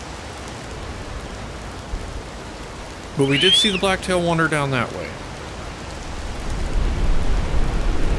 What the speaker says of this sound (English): And the rain's not helping.